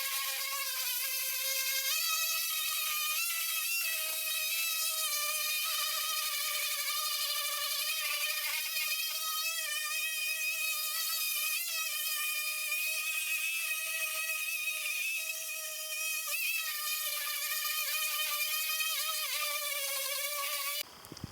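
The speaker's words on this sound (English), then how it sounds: "giving it a really nice light sand and making it real nice and smooth" A camper van's plywood floor being given a light final sanding, a steady, continuous high-pitched whirring hum that holds unbroken and close for the whole stretch, with no talk over it.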